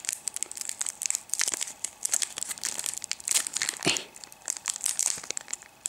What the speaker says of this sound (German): Boah, ich liebe das Geräusch, wenn die Karten aufgehen